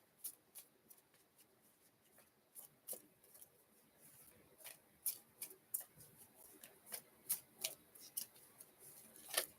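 Tarot cards are shuffled by hand in crisp, quiet clicks and riffles that start sparse and grow busier and louder toward the end, with no voice over them.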